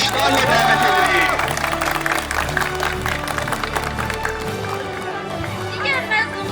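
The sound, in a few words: applause welcoming a graduate at a graduation ceremony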